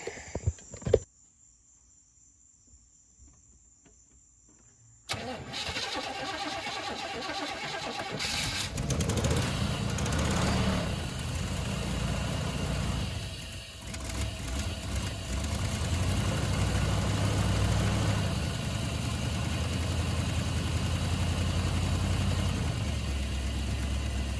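A Chevrolet C3500 truck engine cranks with a brief burst after a quiet pause, then fires up and settles into a loud steady rumbling idle that continues to the end, nearby and without talk.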